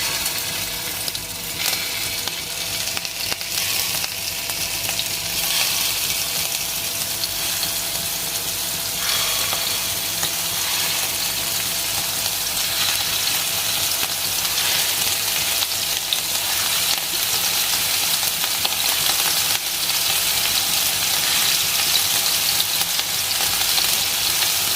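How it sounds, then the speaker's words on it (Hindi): Beef gola kebab balls fry in a few spoons of oil in a pan over medium heat, a steady, loud, dense sizzle that holds unbroken from start to finish. "ये एक पैन में मैंने 4 से 5 चम्मच ऑयल डाला है, तो अब इसमें मैं ये डालती जाऊँगी"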